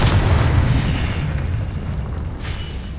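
A loud booming blast from the Confringo fire spell in the Hogwarts Legacy game, a heavy burst that rolls into a sustained roar and slowly fades over about three seconds, with no talking.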